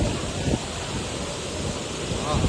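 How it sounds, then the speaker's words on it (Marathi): Strong wind roars continuously near an 80-foot waterfall at Dhangar near Badlapur, a loud, broadband rushing blast that buffets the microphone with gusts, mixed with a steady water roar throughout. "मस्त हवा वगैरे चालू एकदम जोरजोर आहे"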